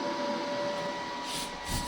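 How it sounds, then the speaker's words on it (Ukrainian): A portable power station running under load gives a steady electrical hum with a faint whine and airy fan noise, continuous and moderate in level. "давайте послухаємо, що гучніше працює станція під навантаженням"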